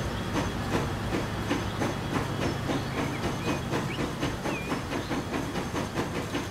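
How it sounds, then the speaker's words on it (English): In the Transport Fever game, the Washington-Chicago train passes through with a rapid, regular clickety-clack of wheels on rail joints over a steady hiss and rumble, close and sustained. "waiting for the Washington-Chicago train to pass through"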